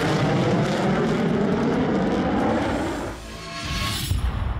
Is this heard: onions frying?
no